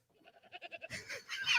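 A baby goat's bleat rings out as a quick, quavering run of pulses, then breaks into a harsher, noisier cry at the end; close and fairly loud, with no talking.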